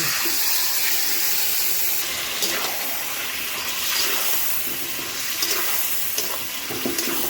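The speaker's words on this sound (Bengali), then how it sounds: "এখন আমরা কড়াইতে মাংসটা ঢেলে দেব কড়াইতে মাংসটা দিয়ে দিচ্ছি" Mutton poured into a wok for a mutton kasha recipe, giving a steady wet, splashy rush with broadband hiss throughout and no talking.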